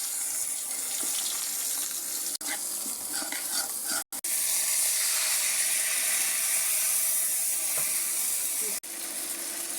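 Onions hit a hot pan and sizzle loudly, a steady bright hiss with faint stirring clatter that runs for nearly ten seconds, broken by a few brief dropouts.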